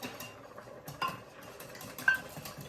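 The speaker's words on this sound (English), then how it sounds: "To the milk, we're gonna add a 1/4 cup of flour. And whisk it." Soft, irregular clinks and light scraping of a whisk working flour into milk in a bowl, faint and close with brief metallic taps and no talking.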